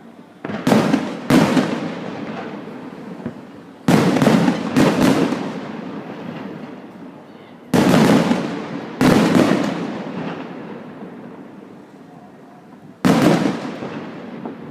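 Swiss National Day fireworks burst over Geneva in loud, booming volleys, several sharp cracks in quick succession followed by long rumbling decays and quieter gaps between salvos.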